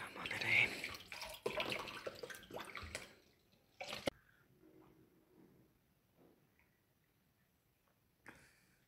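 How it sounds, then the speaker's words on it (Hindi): Water from the fridge pours into a glass in a few splashing bursts over the first seconds, followed by faint clinks and quiet handling noises with near silence in between. "थोड़ा सा पानी है, यही निकाल लेते हैं, रखते हैं यहाँ पे। उठाते हैं गिलास"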